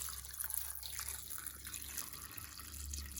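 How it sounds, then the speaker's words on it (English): Hot water from a kettle, switched off just before boiling, poured over noodles: a steady, close liquid pour with a continuous splashing hiss, with no talking. "I'm just going to pour that over my noodles"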